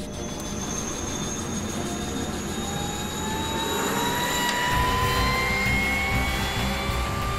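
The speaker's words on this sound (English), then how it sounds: "The sound of an army helicopter can mean various things to various people" An army helicopter passes with a loud, sustained engine roar and rising whine tones that swell slightly toward the middle, heard alone without voices.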